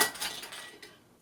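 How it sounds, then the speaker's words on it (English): A fork clinks and scrapes inside a jar while mashing kimchi paste, with bright metallic taps that fade over about a second, close and without talking. "I'm going to mash it up with a fork and hope that will do"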